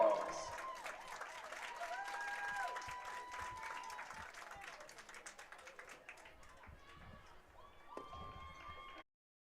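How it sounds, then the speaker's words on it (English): A stadium crowd applauds cheerleaders at a high school football playoff game, steady clapping and cheering that fades gradually, with a public address voice speaking over it toward the end. "Let's give these cheerleaders one more round of applause."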